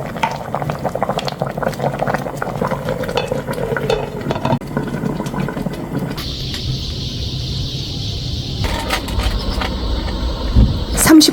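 A pot of pork and aged kimchi stew simmering, with a steady bubbling burble that carries through. A higher hiss joins in partway, and scattered clinks come near the end, with no talking.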